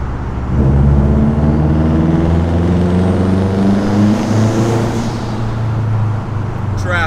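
A 2006 Subaru WRX STI fitted with an external wastegate accelerates hard in second gear with the windows down, a loud, close engine roar climbing steadily in pitch for several seconds before easing off near the end.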